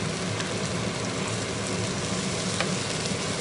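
Chicken pad krapao stir-fries in a hot pan with a loud, steady sizzle that never lets up. Faint scrapes of stirring sit under the hiss, close up, and no one talks.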